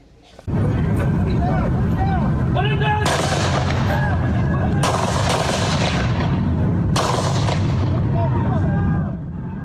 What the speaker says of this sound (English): The gunfire goes on for quite a while.